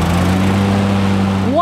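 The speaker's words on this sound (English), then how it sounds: "If you attempt to use the reverse lever, the mower will stall." A riding lawnmower engine running loud and close, a steady droning hum whose pitch begins to sag at the end as the mower stalls when the reverse lever is used.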